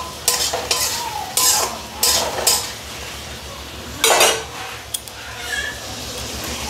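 A spoon repeatedly scrapes and stirs fried potatoes and fried coconut pieces in a pan, producing several loud rhythmic scraping strokes over a low, continuous sizzle.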